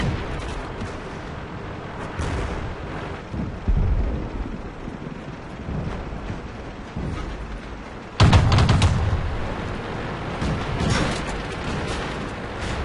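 Tank cannon fire in a video game, a rough rumbling broadband roar that swells sharply partway through into a louder, sustained burst with no voices over it.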